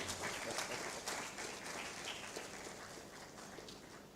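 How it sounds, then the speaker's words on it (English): Audience at a women-in-sustainability event applauds steadily, a dense wash of many hand claps that holds for the whole stretch and fades only slightly toward the end, with no voices on top. "She likes hand claps a lot"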